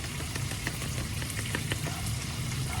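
Chicken sizzling and crackling in hot grease, a dense continuous frying hiss with scattered pops and spatters, loud and close, no talking.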